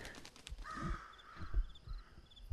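Crow cawing inside the Paranormal Activity VR video game, a few clear caws spaced across a quiet indoor ambience with faint background noise, moderately near and alone without talk.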